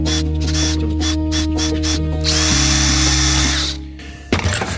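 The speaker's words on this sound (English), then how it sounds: "And drill a few holes." Power drill boring a few holes in a workshop, the motor whining in sustained bursts with pitch shifts as it bites and stops, loud and close, ending with a clatter.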